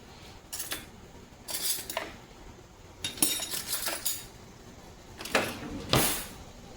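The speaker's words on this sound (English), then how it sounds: "I need a little spoon to scoop the avocado out of that." A small metal spoon scrapes and scoops avocado flesh from its skin for a watermelon salad, in a handful of short scraping, clinking strokes spaced apart, with quiet pauses between.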